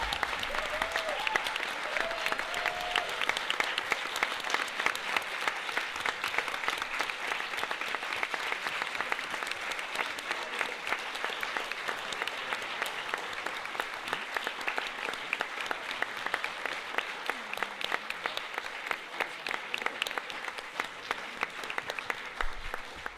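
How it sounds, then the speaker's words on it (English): An audience at a council general assembly applauds, with dense, steady, sustained clapping from many hands lasting over twenty seconds, heard at a moderate distance with no talking over it. "Let's have a huge applause for her"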